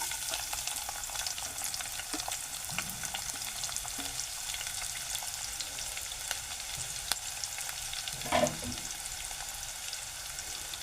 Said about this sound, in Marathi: लगेच मी टाकतो कांदा. बारीक चिरलेला कांदा 1 घेतलाय